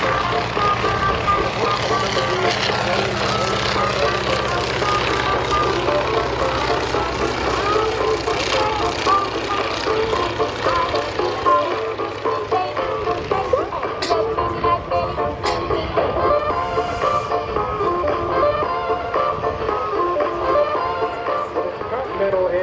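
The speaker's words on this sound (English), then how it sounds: "And the Fokker DR1, Tom Fraser." A replica Fokker Dr.I World War I triplane runs its engine at an air show, a steady droning roar with a public-address announcer talking over it throughout.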